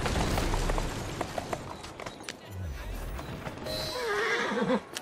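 A horse in the Assassin's Creed Syndicate video game gives a clear, close whinny near the end, after rapid hoofbeats and background game noise, with a voice talking earlier.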